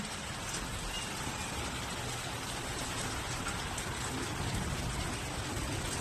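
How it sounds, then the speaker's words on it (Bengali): Steady rain falls outside, a dense, even hiss with no break, heard close and alone without voices. "দেখতেই পাচ্ছ বৃষ্টি হচ্ছে"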